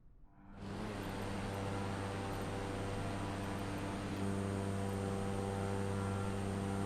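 A propeller airplane engine drones steadily in a flight simulator game, a loud continuous hum with a strong low tone, starting up abruptly and holding without talk.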